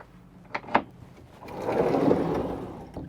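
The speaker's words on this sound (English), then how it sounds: "slide a door across" A couple of quick clicks are followed by a smooth rolling slide that swells and fades, ending with a soft knock, as a sliding door closes on a 2023 Regal LS36 boat.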